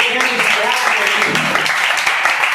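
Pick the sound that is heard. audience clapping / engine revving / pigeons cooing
audience clapping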